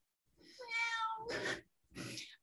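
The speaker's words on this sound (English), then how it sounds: "And Steve the cat has come to join us." A cat meows three times, a long drawn-out wavering cry followed by two shorter calls after brief pauses, fairly quiet against an otherwise silent background.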